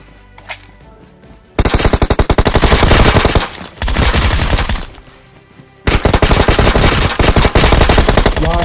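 Groza rifle fire in the FAU-G mobile shooter: loud, close bursts of rapid automatic shots in three long strings separated by brief pauses, with a faint sharp sound just before the first burst.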